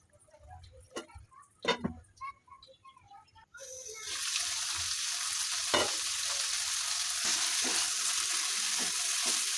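Pieces of beef for a traditional Chittagong beef dish clatter and scrape under a spoon in the pan with a few sharp knocks. Then a loud, steady sizzle of frying takes over and carries on to the end.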